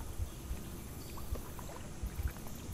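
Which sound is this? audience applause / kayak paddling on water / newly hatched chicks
kayak paddling on water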